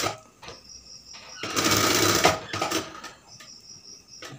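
A sewing machine stitches a kameez neckline in short starts and stops, its whirring motor rising into a louder run in the middle before easing back to quieter intermittent bursts; close, no talk.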